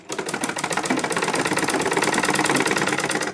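A sewing machine runs steadily while stitching a lungi, its rapid needle strokes forming a loud, continuous mechanical rattle with no pauses.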